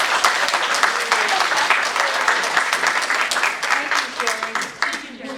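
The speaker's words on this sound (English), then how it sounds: "would you give Jerry a round of applause?" An audience at a community meeting gives a sustained round of applause, dense clapping that continues steadily before thinning out near the end.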